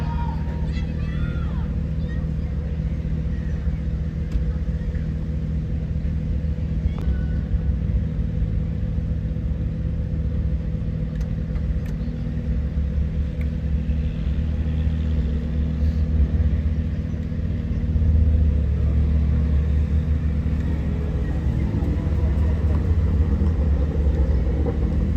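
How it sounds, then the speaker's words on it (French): Exhaust of a Liberty Walk M392 supercar in a Polish supercar convoy, a steady deep low rumble that holds for the whole stretch and swells slightly near the end, with crowd babble in the background. "L'échappement de la M392."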